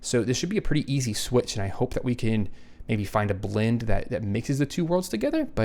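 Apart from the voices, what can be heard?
None of the usual background noises is heard.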